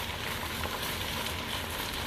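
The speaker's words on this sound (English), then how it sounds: "Now, to kick it up a little bit, I'm going to add some crushed red pepper. We're going to stir this." Sautéed spinach with crushed red pepper sizzles and crackles steadily in a hot pan while being stirred, a close, continuous frying hiss with no talk.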